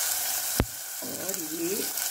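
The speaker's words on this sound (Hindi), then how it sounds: "कटहल को अच्छे से फ्राई करेंगे" Jackfruit pieces fry in a pan with cardamom, cinnamon and asafoetida, a loud steady sizzle with a sharp clatter early on as they go in, then a soft rising tone under the crackle.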